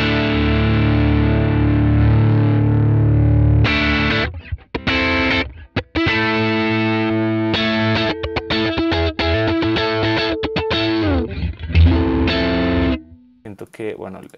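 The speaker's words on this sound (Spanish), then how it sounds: "Siempre prendemos y apagamos el compresor como para escuchar qué es lo que está haciendo." Electric guitar plays driven chords and riffs through a NUX Trident NME-5 multi-effects compressor, tones evened out and sustained, with brief pauses between phrases.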